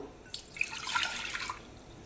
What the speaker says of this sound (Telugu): ఈ కుక్కర్లో కొంచెం వాటర్ వేసుకున్నాము